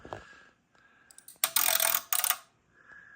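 An automatic antenna tuner, set up with a long horizontal whip antenna laid along the floor, clicks its relays while tuning: a few sparse ticks, then a loud rapid clattering burst, then quiet with a faint tone.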